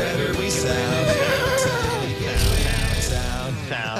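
A horse neigh sound effect rings out as a loud, wavering whinny over a dense, continuous bed of other sound and what seems like background voices, lasting a few seconds.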